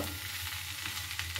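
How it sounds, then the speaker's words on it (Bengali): Pasta with Maggi masala and tomato sauce is stirred in a hot pan, giving a continuous close sizzle with soft scraping, brief and steady, with no voices. "এগুলো দিয়ে ভালোভাবে নেড়ে চেড়ে নেব"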